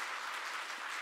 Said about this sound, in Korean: 큰 격려의 박수 부탁드리겠습니다